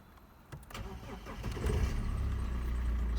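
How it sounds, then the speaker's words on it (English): A BMW 320d with a 2-litre diesel engine starts: a short whirring crank with clicks, then the engine catches and settles into a loud, steady low rumble at idle, close by. "Starts right up with no problem."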